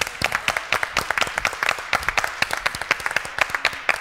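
A small audience at a forum theatre performance applauds, with distinct individual claps in a brisk, uneven rhythm, close and fairly loud.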